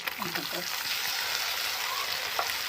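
Ginger garlic paste frying with potatoes in a pan of oil gives a soft, steady sizzle close by, with a few light stirring clinks and some voice sounds at the start.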